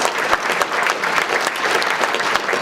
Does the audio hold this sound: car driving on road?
no